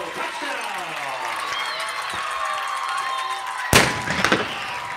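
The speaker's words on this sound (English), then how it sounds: "And the cannon goes off." At a varsity high school football game, Shaker against Willoughby South, a cannon fires after a touchdown: one sudden loud boom partway through, followed by a few sharper crowd bursts, with an announcer talking beforehand.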